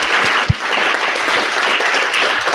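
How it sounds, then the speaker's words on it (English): Audience applause at the close of a weather tools clinic, a steady broad wash of many people clapping from start to finish, with one sharper close clap near the beginning. "So another round of applause for him."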